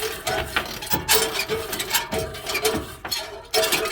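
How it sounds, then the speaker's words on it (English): A ratchet driving a half-inch deep well socket works loose a tailpipe exhaust clamp, its pawl clicking in quick repeated bursts up close, with short pauses between strokes and no talk. "1/2 inch deep well socket, loosen up your clamp"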